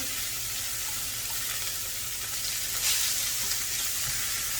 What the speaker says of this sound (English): So first thing first, we'll put the onion in,